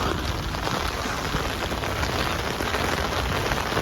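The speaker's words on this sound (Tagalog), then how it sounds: "To ang ulan natin dito sa Germany." Steady rain pours outdoors in Germany, a dense, loud, unbroken hiss of drops hitting the ground and surfaces throughout, with nothing else standing out above it.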